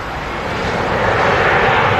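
A Boeing 777 lands on runway 23 right at Manchester Airport, its engines a loud, steady broadband roar that swells slightly, heard alone without talk.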